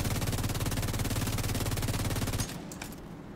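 Rapid sustained automatic gunfire from the video game The Division 2, a dense loud burst of continuous shots that cuts off abruptly near the end, leaving quieter game ambience.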